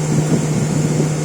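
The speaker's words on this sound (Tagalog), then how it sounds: "So, umingay yung motor." A steady, noisy motorcycle engine drone with a constant low hum, running evenly for a brief moment with no voices.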